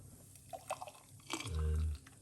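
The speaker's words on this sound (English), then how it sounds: "and pour it out like this." A drink being poured from a container into a cup, with a few light drips and splashes and then a short steady pour that is loud and close; brief speech-like sounds precede it.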